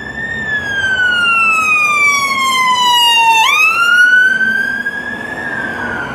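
An ambulance's loud wailing siren sweeps past, its pitch dropping sharply as the vehicle passes, then rising and fading as it moves away; no talking.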